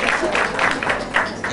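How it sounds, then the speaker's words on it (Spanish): Conference audience applauding, steady dense clapping from a crowd, close and continuous, with no talk over it. "otro aplauso"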